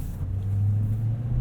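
A 2019 Toyota Tundra 4x4 SR5 Double Cab pickup heard from inside the cab while driving and turning, with a low steady engine and road rumble at moderate level.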